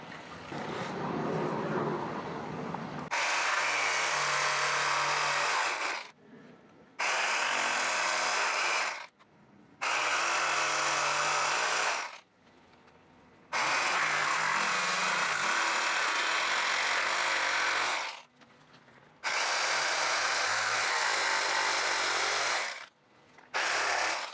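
A power saw cuts through a wooden board while a 68-year-old window is being rebuilt, running in loud bursts of several seconds each, separated by short silent pauses.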